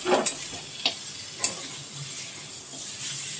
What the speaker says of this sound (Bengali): দিয়ে ভালো করে এবার মাংসটার সাথে মিশিয়ে নিচ্ছি।